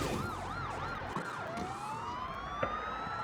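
A police car siren in the video game Gangstar New Orleans wails in repeated rising and falling cycles, then shifts to a long steady rising tone over a constant engine and traffic rumble, loud and close throughout with no talking.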